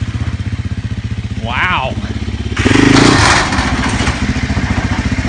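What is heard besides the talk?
Sherco 450 SEF-R dirt bike engine on test ride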